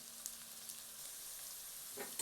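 Curry leaves tempering in hot oil for an eggplant dish give a steady, fairly quiet frying hiss with a few soft crackling pops, and no one talks.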